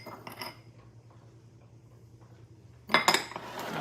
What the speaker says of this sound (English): I'll whisk those things together.